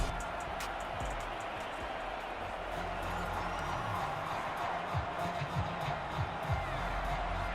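Stadium crowd noise from a Madden 22 NFL football game between the New Orleans Saints and Atlanta Falcons, a steady broad roar of cheering fans that holds at an even level throughout, with occasional faint whoops rising above it.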